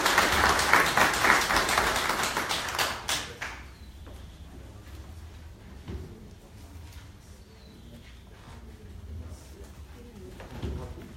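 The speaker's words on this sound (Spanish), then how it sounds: "también un fuerte aplauso" Applause from attendees at a national meeting of IMSS workers and retirees, a burst of clapping that fades after a few seconds, leaving scattered claps, room noise and faint voices.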